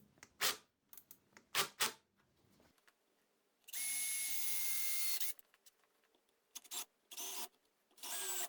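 Power drill driving screws into a wall mount for a Milwaukee portable band saw, with a steady whirring run of about one and a half seconds between short taps and clicks, then more brief drill bursts.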